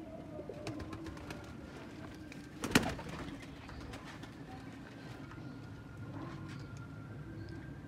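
Pigeons for sale in Faisalabad coo softly against a faint background, with one sharp louder burst partway through and scattered light clicks and rustles around them.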